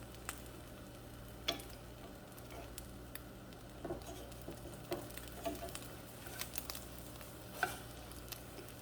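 An egg quesadilla cooking in a pan, a faint, steady low sizzle with scattered small ticks and pops, quiet and alone.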